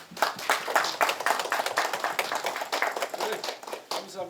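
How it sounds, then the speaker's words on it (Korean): A group clapping steadily at a formal ceremony, a modest round of applause with brisk, uneven hand claps continuing throughout, fairly close. "내빈 여러분 정면 보시고 박수 한번 부탁드립니다."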